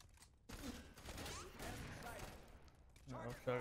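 Rapid gunfire from a FEAR 3 firefight, a dense burst of shots and impacts running for several seconds, loud and close, with a voice shouting over it.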